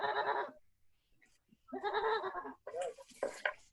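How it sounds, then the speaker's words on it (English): Goats bleating loudly and close in several separate calls, with brief gaps of quiet between the wavering cries. "Enough goats bleating."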